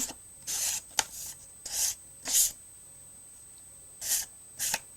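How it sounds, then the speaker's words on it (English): A green craft piece gets its surface scuffed by hand in short rasping strokes, about seven separate rubs spread irregularly, close and fairly quiet with pauses between them. "I'm going to scuff up this green one"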